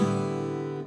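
A single acoustic guitar upstroke across open strings rings out briefly and evenly, then is cut off after about a second.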